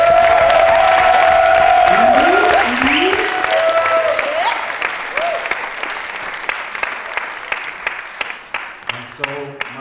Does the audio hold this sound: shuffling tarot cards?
no